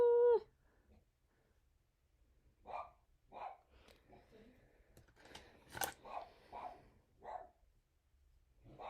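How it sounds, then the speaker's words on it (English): A few scattered dog barks at a distance, faint and irregular, with soft background noise between them. "I don't know why they're barking."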